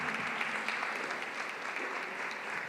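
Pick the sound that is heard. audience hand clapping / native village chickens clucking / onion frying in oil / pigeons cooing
audience hand clapping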